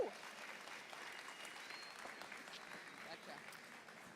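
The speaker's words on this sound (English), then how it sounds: "Round of applause." Applause at a farm show's halftime stage segment, a crowd clapping steadily and fairly faintly at a distance, with scattered cheers mixed in.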